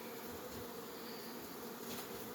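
Bees hum in a dense, continuous drone around an open hive with two brood boxes, close and steady, with no talking.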